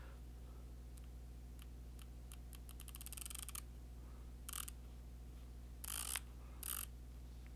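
Element Helix 6-24x50 FFP riflescope turret dialed by hand, giving a rapid run of small crisp clicks close to the microphone, followed by a few louder scraping handling bursts over a steady low hum.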